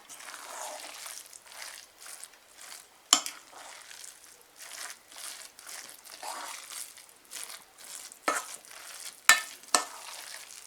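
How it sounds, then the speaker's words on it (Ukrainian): Mushroom cutlet mince is kneaded by hand, giving soft, irregular squelching and sticky slaps in a quiet kitchen, with a few sharper knocks; no one speaks. "Гарненько вимішуємо наш фарш ще трішечки"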